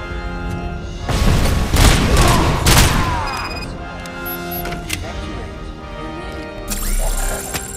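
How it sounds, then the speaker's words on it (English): Grenade blasts and gunfire in the video game RoboCop: Rogue City, a dense burst of loud booms and shots in the first few seconds giving way to scattered shots and a late rumble. "Whoa, throwing grenades."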